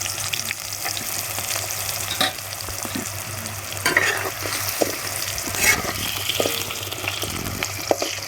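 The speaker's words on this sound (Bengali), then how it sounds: "আলুগুলো লাল লাল করে ভাজা হয়ে গেছে" Potatoes and vegetables fry in a pan with a steady close sizzle, broken by scraping and clinking as a utensil stirs them.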